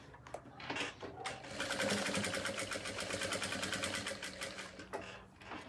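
A sewing machine stitches an elasticated fabric organizer case, a fast rapid-fire whirring run lasting several seconds between brief starts and stops, close and clear.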